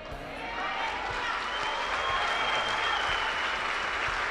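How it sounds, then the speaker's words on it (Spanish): Sustained congregation applause in a church service fills the space, steady dense clapping building slightly and holding loud throughout. "En el nombre de Jesús, aplauda al Señor."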